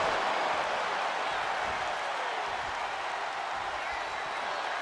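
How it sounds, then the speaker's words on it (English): Virtual wrestling arena crowd in WWE 2K26 roaring and cheering in a continuous dense wash, with commentary voices running over it. "Just listen to this crowd."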